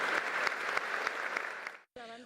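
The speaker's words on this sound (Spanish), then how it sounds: "Un aplauso para el deporte peruano" Dense applause from a crowd, a loud, steady wash of clapping that cuts off abruptly near the end, followed by a brief voice.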